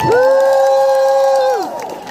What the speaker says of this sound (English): Can I just let you know that you're the best crowd ever? Give it up for yourselves.